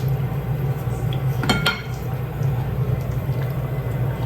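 A metal lid knocks and clinks twice in quick succession as it is set back onto a simmering pot of chicken lomi in a home kitchen, over a steady low hum of the stove.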